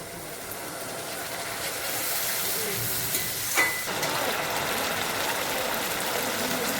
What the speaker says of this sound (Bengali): এবারে আমি রসুন আর আদা বাটা দিয়ে দেবো